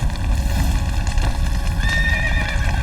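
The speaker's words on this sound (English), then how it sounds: "I need this horse to bugger off." A horse in the Witcher 3 video game snorts and neighs in a drawn-out whinny while hooves clip-clop steadily, close and loud over a rumbling game backdrop.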